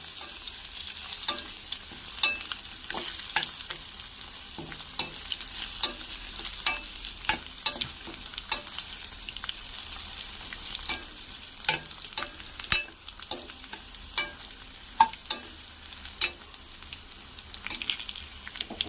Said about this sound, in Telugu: వెల్లుల్లిపాయలు లాస్ట్లో వేసుకోవాలి లేకపోతే మాడిపోతాయి సో వెల్లుల్లిపాయలు వేస్తాం